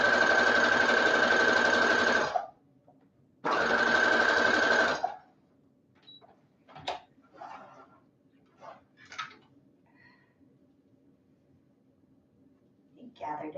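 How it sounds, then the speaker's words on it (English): A sewing machine runs a basting stitch in two loud, steady bursts of about two seconds each, followed by a quieter stretch of soft handling noises and faint sounds of fabric being adjusted. "I'm going to do a basting stitch instead of a regular stitch."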